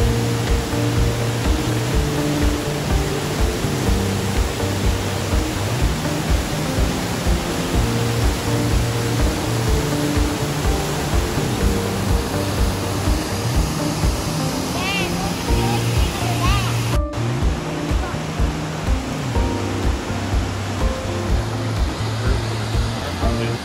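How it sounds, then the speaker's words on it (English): Silver Falls at the base of Mount Rainier, a steady, dense roar of falling water close by, with a person talking over it now and then. "Waterfall. This is, where are we? Silver Falls. Silver Falls at the base of Mount Rainier."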